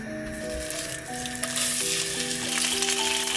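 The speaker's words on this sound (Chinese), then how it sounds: "今天想吃煎青花鱼" Mackerel fries in a pan, giving a steady, bright sizzle that grows a little louder partway through, with soft music playing underneath.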